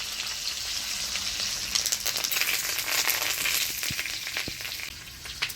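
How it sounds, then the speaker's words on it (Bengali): Bay leaf, green chilli, whole cumin and curry leaves sizzle in hot oil for jeera rice, a loud continuous frying hiss with crackling pops and a few soft stirring knocks, no voices over it. "দিয়ে দিচ্ছি তেজপাতা, কাঁচা লঙ্কা, দিয়ে দিচ্ছি গোটা জিরা, এবারে দিয়ে দিচ্ছি কারি পাতা।"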